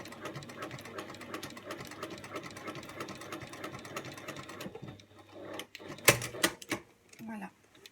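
A domestic sewing machine runs a steady, fast stitching rattle for several seconds, then stops. Scattered clicks and handling noises follow, and someone talks quietly over the sounds.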